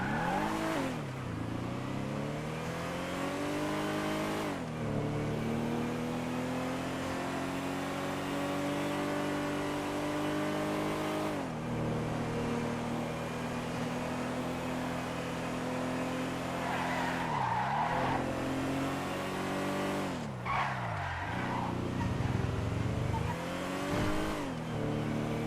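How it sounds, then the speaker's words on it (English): A four-door sedan from a racing video game revs hard and skids, its engine climbing through repeated gear shifts with squealing tyres, loud and continuous throughout. "this is one of the newer cars added in the Agents of Sabotage DLC"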